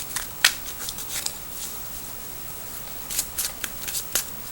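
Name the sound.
tarot cards being shuffled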